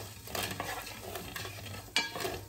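Cumin, mustard seeds and fenugreek sizzle in hot oil for a South Indian fish curry, a soft continuous crackle with a spoon stirring and scraping the pan, including one sharper clink, close and fairly quiet with no talking.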